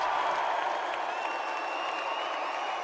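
A crowd in the video game Metaphor applauds and cheers, an even wash of clapping with a faint sustained tone running through it, steady and unbroken from start to end.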